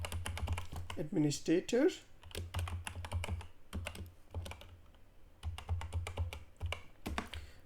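A username is typed at a computer keyboard during setup of an SAP Cloud Connector login, making quick, close clicking keystrokes in bursts. Someone speaks over and between the keystrokes.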